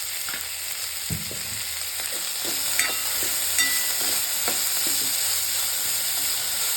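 Vegetables for white sauce pasta sizzling and being stirred continuously in a pan over a full gas flame, a steady close hiss with soft scraping clicks of the spoon throughout.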